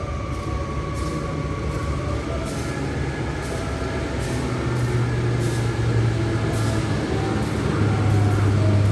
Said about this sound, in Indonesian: akhirnya itu kereta kita datang